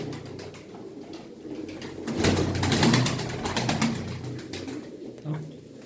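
Pigeons coo in a loft of prized show birds, soft repeated coos rising and falling against a steady low background murmur, with a louder burst of calls and faint wing sounds around the middle.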